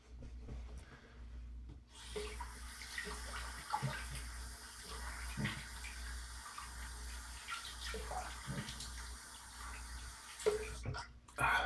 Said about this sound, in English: apologies for the water sounds there